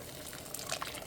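Water poured from a cup into a pot of soaked rice, a steady close splashing pour filling the pot for about a second with no talking.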